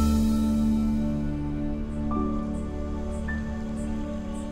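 Steady rain sound effect from a film, a continuous dense hiss of falling drops with a low sustained tone underneath, lasting throughout without talk.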